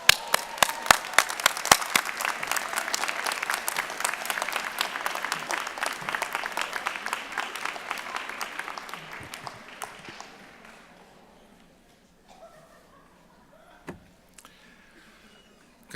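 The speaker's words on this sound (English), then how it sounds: "Turn around and give them a round of applause." Graduation commencement audience applauding graduates' parents and friends, loud dense clapping for about ten seconds that thins out and fades, leaving a few scattered claps.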